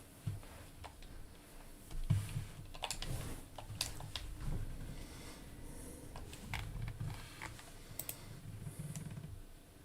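A computer keyboard clicks in irregular bursts of keystrokes during a gaming session, close and fairly quiet over a low background hum, with no voices.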